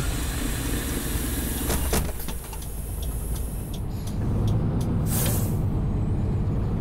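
Crowded city bus with air brakes, a constant loud engine and road rumble inside the cabin, with a brief hiss of air release and faint clatter partway through.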